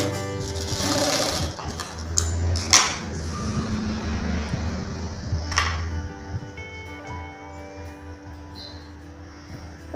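A sewing machine stitching a blouse lining runs in short bursts with quiet pauses between them, fairly soft and close.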